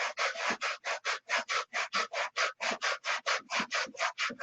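Hand sanding a wooden airfoil with 80 grit sandpaper, producing a steady rhythm of about twenty quick, even rasping strokes back and forth, close up and with no voices.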